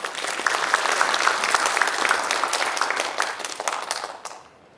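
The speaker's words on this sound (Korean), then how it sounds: "김판규 부회장님을 큰 박수로 환영 부탁드립니다" A hall audience at a Korean reconstruction association meeting applauds steadily to welcome its vice chairman. The dense clapping holds for about four seconds, then fades out quickly at the end.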